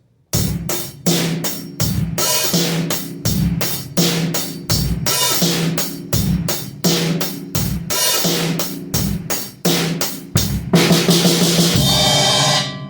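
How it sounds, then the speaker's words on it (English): A drum kit plays a steady beat, with crisp hi-hat accents opened by the foot pedal at set points in the pattern, close and loud, with sharp cymbal washes and a punchy kick and snare throughout, and no talking. "You can also use your hi-hat foot pedal to use accents by, opening them up on certain parts of the beat"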